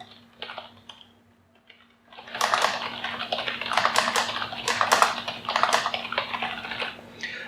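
Typing on a computer keyboard while building a WordPress page in Elementor: a few faint taps come first, then a steady run of close, crisp keystrokes clatters along at an uneven pace.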